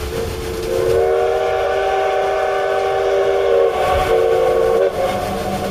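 A train whistle on a railway line sounds loud and sustained in one long steady blast lasting several seconds, with a brief dip near the end, over a low rumble of the moving train.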